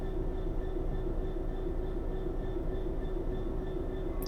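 A train rolls along the West Coast Main Line with a steady, continuous rumble and hum, heard close and even throughout without voices.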